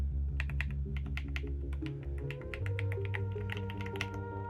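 Rapid, steady typing on a Redragon K762 Pro wireless gasket mechanical keyboard produces soft, fairly quiet clicks with an even rhythm, heard close up and alone.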